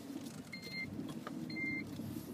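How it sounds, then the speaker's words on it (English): A car idles with a low engine hum as it reverses, and two short high electronic beeps sound about a second apart. "Just reversing my car"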